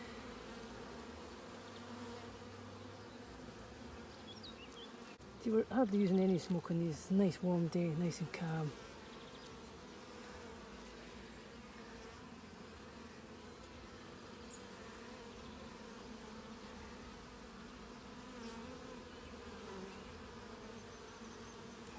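Honeybees at an apiary hive inspection on a calm, warm day in Ballachulish swell into a close, loud buzz for about three seconds, then fade back to a faint hum while a voice talks quietly over it.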